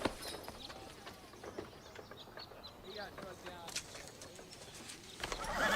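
Horses in a western setting, with hooves clopping unevenly and an occasional whinny amid faint birds cooing, moderately distant, over a low outdoor background.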